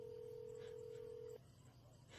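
A single steady telephone tone sounds for over a second and then cuts off, leaving a quiet hum of background noise.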